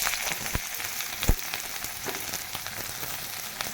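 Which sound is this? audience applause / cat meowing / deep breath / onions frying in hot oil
onions frying in hot oil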